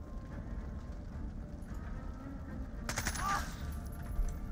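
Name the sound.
gunfire in Jagged Alliance video game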